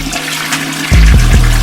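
A toilet flush sound effect bursts in loud and close after a short lead-in, with a rushing, gurgling swirl of water that keeps going to the end.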